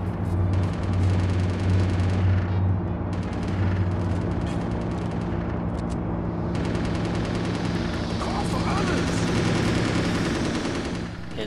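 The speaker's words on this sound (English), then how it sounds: "In this area we've got a little firefight going on, and if we leave it for long enough they will kill each other" Sustained, dense gunfire from a firefight in the video game Chaser, with rapid machine-gun bursts and overlapping shots rattling continuously and loudly throughout.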